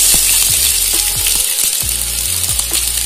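Fennel seeds frying in hot oil for Nagore prawn and ulladam vada, a loud, steady close sizzle with faint stirring clicks and scrapes throughout, no voices.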